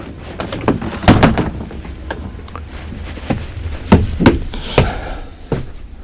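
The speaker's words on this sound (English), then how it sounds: "So, what I do is I open my door." A PT Thomas bus door is worked open up close with a series of loud clunks, taps and sliding thuds spread unevenly over several seconds.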